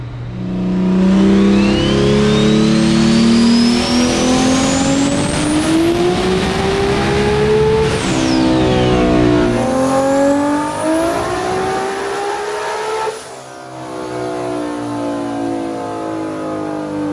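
A nitrous-fed drag car with a TH400 transmission revs hard on a dyno, staged on the trans brake, its loud engine note climbing steadily in pitch, dropping back, then sweeping up again before easing off near the end.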